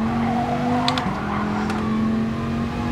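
A race car in Gran Turismo Sport at Dragon Trail Seaside brakes hard with a continuous engine drone and a steady tonal whine, while brief tire squeals cut in twice, all close and loud.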